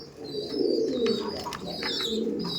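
Rajasthani pigeons coo softly in a steady low murmur, with a few faint chirps mixed in, close by and without talk.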